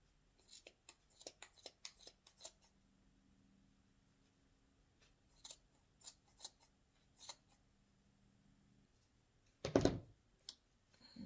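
Scissors snip through the yarn loops of a pom pom, a scattered series of short, crisp, close cuts with a quiet low hum beneath and a louder rustle near the end.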